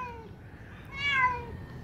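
A cat meows inside a drained swimming pool, a drawn-out, rising and falling cry that swells louder midway and then fades, heard alone without talk.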